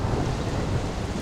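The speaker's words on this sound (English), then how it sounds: "pissing rain" Heavy rain pours steadily with rumbling thunder, a dense, loud, continuous wash of noise with no voices.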